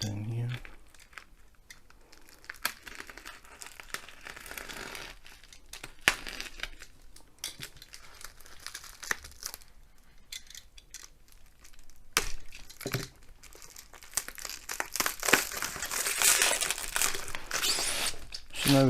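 Crinkly plastic packaging around a diamond painting tube crackles and tears as it is cut open, close-up rustling in irregular bursts that build toward the end, with a voice talking quietly in places.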